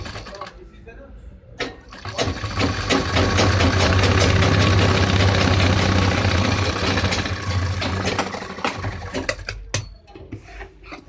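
Sewing machine stitching the fly of a pair of trousers, a steady low motor whir that builds, runs continuously for several seconds, then trails off amid scattered handling clicks.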